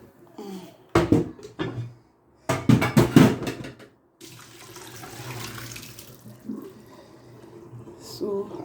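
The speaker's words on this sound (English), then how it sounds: "now I will bring down the rice to wash it" Rice rinsed under running water in a sink or pot, with splashing bursts and swishing in short runs, then a steadier softer flow of water, close by.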